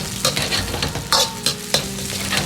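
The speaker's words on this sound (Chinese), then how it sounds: "接着下入控干水分的香料，煸炒出香味，炒出香料里边多余的水分" Drained spices stir-fry in a hot wok for a braised pork belly dish, a continuous sizzle broken by several sharp scraping strokes of the spatula against the metal.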